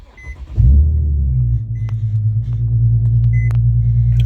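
A 2009 Infiniti G37 engine being tested after VVT solenoid replacement cranks and fires up, then settles into a loud, steady idle rumble close by, with a few faint chimes from the dash.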